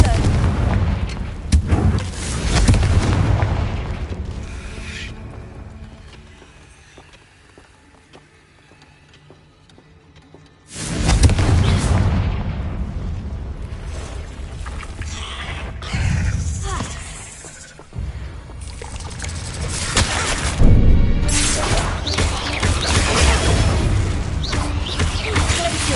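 Confringo blasting spell explosions in the Hogwarts Legacy video game: loud, booming blasts with long rumbling tails, one burst near the start and heavier explosive barrages after a quieter stretch, layered over game music and effects.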